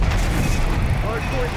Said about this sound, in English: Authorizing Hellstorm launch. At LAR, stop. Missile away.